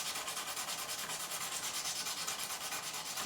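Steady, close rubbing of sandpaper polishing recrowned frets on a Squier Classic Vibe Telecaster neck, a quiet continuous scratchy hiss with a quick back-and-forth pulse and no talk.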